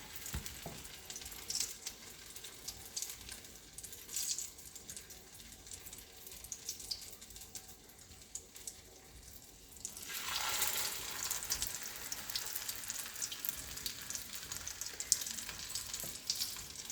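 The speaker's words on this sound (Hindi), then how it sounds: "इनको शैलो फ्राई करेंगे" Egg-dipped beef shami kababs shallow fry in a pan, giving a soft sizzle that swells into a louder, brighter hiss about halfway through as more go in, close and without talk.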